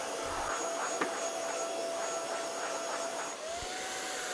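Dreame Z30 cordless vacuum cleaner with a soft brush attachment run over a flat TV screen, a steady faint whine with a thin tone that shifts near the end, a couple of light knocks.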